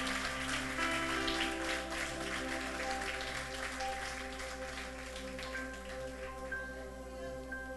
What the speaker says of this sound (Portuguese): Você pode aplaudir ao Senhor aí pela fé de Abraão?